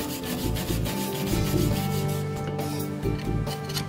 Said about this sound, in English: A hand wire brush or a scraper is used to remove small rust manually.